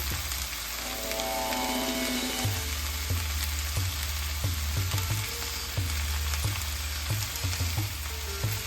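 Cauliflower and potato curry frying in a pan, with a steady sizzle throughout and repeated rhythmic scraping thumps from stirring at a close, moderate level.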